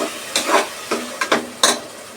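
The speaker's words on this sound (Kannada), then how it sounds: "ಸೊ ಈಗ ನಾನು ಟೊಮ್ಯಾಟೊ ಪ್ಯೂರಿ ಹಾಕೋತಾ ಇದ್ದೀನಿ." Garlic and tomato puree hitting hot frying vegetables in a pan, making short loud sizzling bursts as it is stirred in, four or five quick hissing spurts close by.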